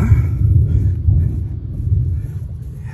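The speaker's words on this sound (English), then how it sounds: "You hear them thunders, guys?" Distant thunder rolls low and continuous ahead of an approaching storm on a farm, a steady heavy rumble with no other clear sound on top.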